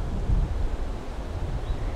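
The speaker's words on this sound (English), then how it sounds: "It's damp, it's super windy." Strong wind buffets the microphone outside a tent during a damp storm, in low, rumbling gusts that swell and fade, with no voices present.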